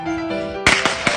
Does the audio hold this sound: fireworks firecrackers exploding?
yes